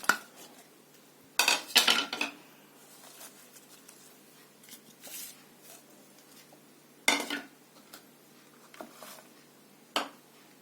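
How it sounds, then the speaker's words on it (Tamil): Garlic, black pepper and cumin seeds are tipped into a mixer grinder jar, making a few separate clattering, rattling bursts with quiet gaps in a calm kitchen. "இப்போ ஜாரில் எல்லாத்தையும் போட்டுக்கணும்"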